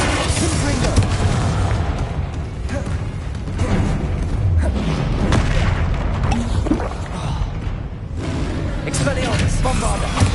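Continuous loud spell blasts and explosions from Hogwarts Legacy, a dense rumbling wall of booms and crackling impacts with swelling and dipping intensity throughout.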